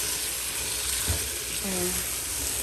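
Beef pilau sizzling and frying in a pot while being stirred, a steady loud hiss with a brief scrape of the spoon, and a faint voice murmuring briefly underneath.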